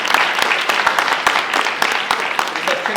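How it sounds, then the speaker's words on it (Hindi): An audience at a Hindi stage play in a theatre applauds the actors, a dense loud wash of many hands clapping steadily for the full stretch. "आप लोगों के लिए जोरदार तालियां"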